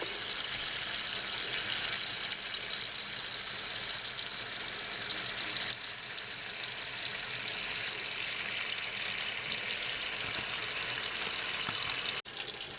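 Cold tap water runs steadily from a faucet onto lettuce in a bowl being filled for a Greek salad, a constant close hiss and splash that holds from start to finish with a brief knock near the end.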